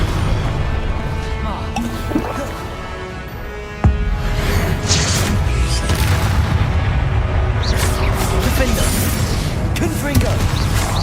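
Fire-spell explosions boom through a Hogwarts Legacy battle, one sharp blast standing out above a dense, steady wash of crashing combat noise, with a voice calling out spell names over the din.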